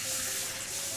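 Water pouring steadily into a kitchen wok for cooking moong dal, a continuous close, fairly even splashing rush with a bright hiss.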